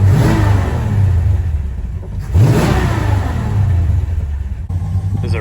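A 1964 Dodge Dart with a swapped-in 5.9 Magnum V8 runs cold near idle, a loud close rumble that swells in two brief revs, with an annoying clunking from the exhaust. Nobody speaks.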